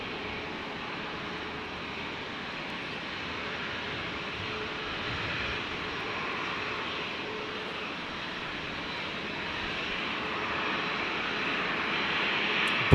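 A Velocity airliner landing at Brisbane airport makes a steady, broad engine roar that holds at an even level throughout and swells slightly near the end, with no talk over it.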